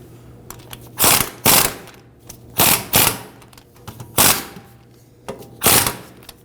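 Ratchet tightening rear hub assembly bolts on a 2013-2015 Subaru XV Crosstrek during a wheel bearing replacement, quick bursts of close, loud clicking repeated in short rhythmic pairs with brief pauses between.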